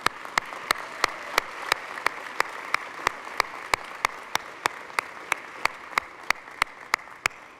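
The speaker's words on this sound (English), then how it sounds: "turn around and give your family and friends and loved ones applause" Graduates at a medical school hooding ceremony turn and applaud their families and friends, a room full of steady hand clapping with sharp individual claps standing out in a fairly regular pulse, no talking.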